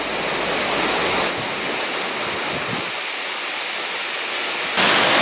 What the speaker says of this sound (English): That's water falling down, like a waterfall.